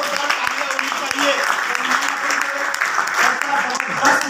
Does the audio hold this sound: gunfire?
no